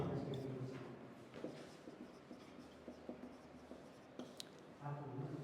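A pen scratches across paper while a chemistry statement is written out, a soft irregular series of strokes and taps recorded close up, with someone speaking over it in places.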